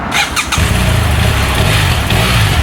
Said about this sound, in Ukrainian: Не подобається мені звук двигуна.